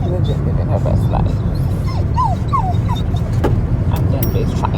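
Joy, a pet dog riding in the back of a car with the seats folded down, lets out several thin rising whimpers and yips over a steady low rumble of the moving car.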